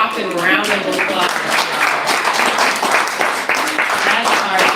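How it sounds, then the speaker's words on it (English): An open-mic audience breaks into a full round of clapping mixed with cheering voices, a dense, steady wash of applause for a performer that lasts throughout. "let's give her a whopping round of applause"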